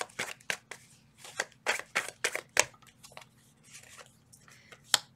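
Tarot cards being shuffled produce a series of quick, close riffling and slapping bursts, irregular in rhythm, with soft rustles between them and no talk.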